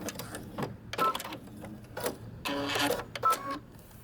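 A sewing machine runs in short bursts while back stitching at the end of a seam on a dress placket, its rapid mechanical chatter stopping and restarting several times, close and fairly quiet.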